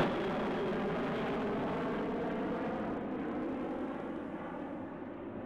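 An airplane passes overhead at a winter horse show, a broad, steady engine roar that holds for several seconds and slowly fades, with no voices.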